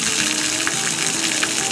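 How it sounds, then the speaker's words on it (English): Rusty, muddy water gushes steadily from the drain of an RV water heater during winterizing, a continuous loud broadband rush with no talk over it. "Looks like mud water coming out of there."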